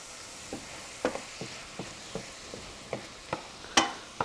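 Onions fry in a pan with a quiet, steady sizzle, and the utensil clicks and scrapes against the pan at irregular intervals. One louder knock or stir comes near the end. No one speaks.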